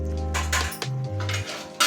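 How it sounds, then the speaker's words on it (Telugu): Metal lid set onto a pan of eggs cooking for egg appam, a few short clanks and rattles close up over a low steady hum, with no talk. "ఇప్పుడు ఈ ఎగ్స్ కొంచెం ఉడికినంత వరకు దీనిపైన మూత పెట్టేద్దాం."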